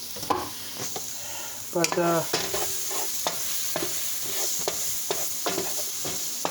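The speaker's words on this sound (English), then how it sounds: "stir in the garlic, taco spice, and cook until the garlic is fragrant" Garlic and taco spice stirred in a sizzling frying pan, with repeated scraping strokes of a utensil against the pan over a soft, continuous frying hiss, close and clear, with one brief spoken word.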